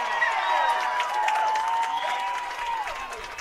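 Baseball crowd at a Corvallis Knights versus Cowlitz Black Bears playoff game applauding and cheering in a steady, sustained roar with whistles, a broad wash of clapping across the whole stretch.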